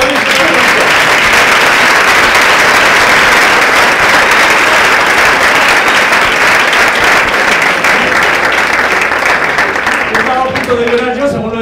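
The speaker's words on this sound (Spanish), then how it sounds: "aplausos." Loud, sustained audience applause at a youth environmental conference, dense clapping filling the whole stretch before tapering near the end as voices begin to emerge.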